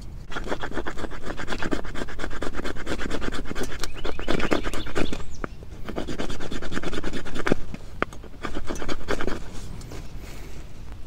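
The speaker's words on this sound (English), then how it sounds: "you can actually scrape some shavings off this piece of fat wood" A flint and steel striker edge scrapes shavings off a piece of fatwood in loud, close, rapid rasping strokes that run almost continuously, with a brief pause midway and a couple of sharp ticks.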